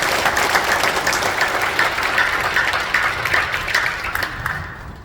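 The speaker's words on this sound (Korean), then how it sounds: "하나님께 영광의 박수 올려드리겠습니다" A church congregation gives warm, sustained applause during a Korean joint worship service, with dense clapping that fades toward the end.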